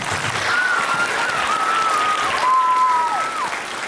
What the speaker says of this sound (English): see another applause for the amazing Interboro High School cheerleaders